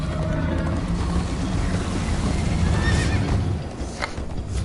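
Horses whinny and gallop in Minecraft Story Mode, a rapid clip-clop of hooves running under loud neighs, with rushing wind and game effects layered over the chase.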